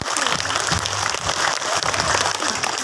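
A crowd at a Sundanese religious sermon claps together in a dense, loud burst of applause that holds steady for a few seconds without anyone speaking over it.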